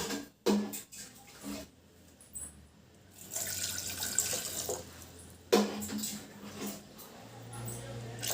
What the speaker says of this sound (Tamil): இதில் தண்ணி ஊற்றிக்குவோம்,